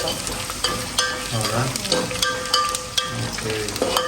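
Garlic and curry leaves fry in a pan while a utensil stirs them, giving a continuous sizzle broken by repeated scraping and clattering strokes, close and fairly loud.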